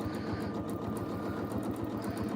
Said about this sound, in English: we are going to just do some teeny tiny quilting